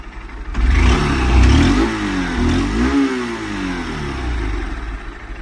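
A Honda SP160 motorcycle engine revs close by, its exhaust climbing and falling through a couple of swelling throttle blips before settling back toward a steady idle.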